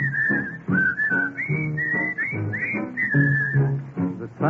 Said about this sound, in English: Bob sent me a record that he made with the Sportsman Quartet